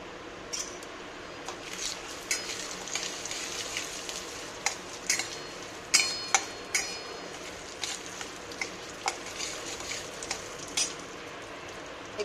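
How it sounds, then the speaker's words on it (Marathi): Semolina being roasted in a cupful of ghee in a pan over low flame for Kakdiche Dhondas, with a soft steady sizzle and regular stirring scrapes and clinks of a spoon against the pan, no talking. "त्याच्यानंतर केसरी रवा ऍड करू आणि तो मस्त तुपावर भाजून घेऊया व्यवस्थित।"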